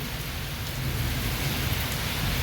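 Heavy first monsoon rain of the Sawan month in a Punjab village, driven by strong wind: a dense, loud, unbroken roar of downpour hitting surfaces, steady throughout with no voices.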